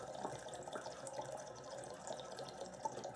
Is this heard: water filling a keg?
yes